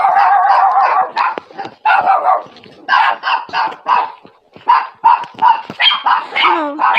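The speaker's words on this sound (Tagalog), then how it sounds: "Oh, ang dami aso." Several dogs bark at close range outside a house, a loud, overlapping run of barks and yips with brief pauses between volleys.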